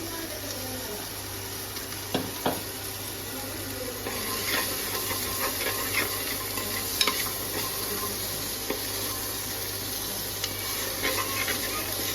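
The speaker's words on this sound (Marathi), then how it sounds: "आता ह्याच्यात मी टाकते व्हेजिटेबल्स. अगोदर छान तेलावर शिजवून घ्यायचे." Vegetables fry in hot oil in a pan while being stirred for a daliya pulav, a steady sizzle and hiss with occasional scraping and clinking of the spoon, close and continuous.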